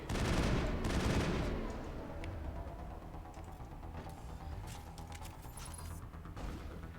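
A close barrage of video game gunfire rattles heavily for the first two seconds, then trails off into a lower rumble with scattered distant shots and ambient hum.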